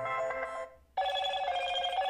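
A Moto G71 5G smartphone ringtone plays loud and close: a bright, ringing electronic melody that cuts off briefly, then resumes steadily.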